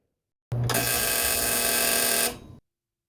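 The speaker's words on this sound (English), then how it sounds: "My dryer has this buzzer that goes off when the clothes are dry." A clothes dryer's end-of-cycle buzzer sounds once, a loud steady electronic tone lasting about two seconds that stops abruptly and leaves silence before and after.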